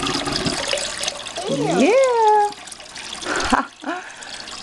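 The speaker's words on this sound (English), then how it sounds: "As you can see, the water is going out, and there it goes." Water gurgles and drains out of an aquaponics system through a siphon, with loud sucking swoops and sloshing up close that taper off and then sputter, while a voice briefly speaks.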